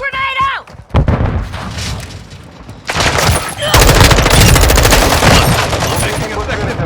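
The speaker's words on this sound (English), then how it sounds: "Stun grenade out!" A stun grenade bursts in Call of Duty: Modern Warfare 2, followed by loud, rapid bursts of automatic gunfire and booming shots that fill the mix up close, with voices briefly audible.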